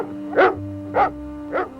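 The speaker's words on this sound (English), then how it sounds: "My, you're a pretty dog." A dog gives three short, evenly spaced barks at close range, with a quiet low rumble in between.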